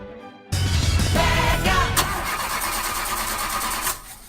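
A car engine cranks and catches in a radio advert, a brief silence followed by a loud starter whir that settles into a steady idle before cutting off.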